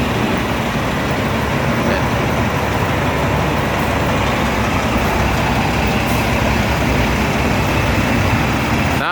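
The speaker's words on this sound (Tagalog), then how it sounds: "So ayan na ang mga buses natin na dumating." City buses, KMB and Citybus double-deckers, roll into a busy Hong Kong bus stop just past the Harbour Tunnel exit, a continuous loud wash of engine rumble and traffic noise with no break and no voices.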